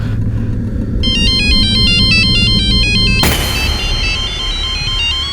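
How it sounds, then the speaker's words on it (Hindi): A phone ringtone chimes in a repeating electronic pattern over a steady low rumble, then cuts off abruptly and a brighter tone takes over. "तुम्हारा फोन बज रहा है"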